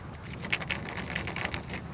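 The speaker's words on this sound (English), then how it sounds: "That's the sound of the seeds inside this pod." Dried lotus seeds rattle inside a hollow lotus pod, giving a faint, close series of soft, irregular clicks and taps over quiet background noise.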